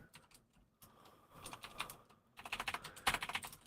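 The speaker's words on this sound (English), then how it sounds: "I'm typing the letters in the wrong order." Keys clatter on a computer keyboard in quick irregular bursts, sparse at first and then a denser, louder run of typing toward the end, close and alone with no voices.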